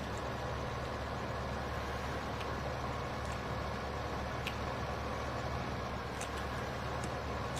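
A tractor engine idles steadily in Farming Simulator 15, a constant low drone with a few faint ticks over the top and no talk.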